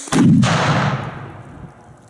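An electric detonator fires in a single sharp explosion, loud and close, during a demonstration for trainee sappers, then its rumble fades away over a couple of seconds.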